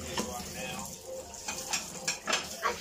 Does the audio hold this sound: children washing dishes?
yes